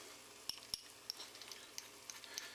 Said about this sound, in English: And then you just take and you stir that